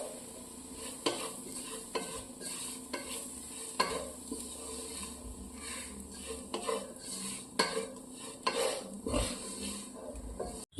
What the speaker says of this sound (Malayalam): എല്ലാം കൂടെ നമുക്ക് നല്ലതുപോലെ മിക്സ് ചെയ്തെടുക്കാം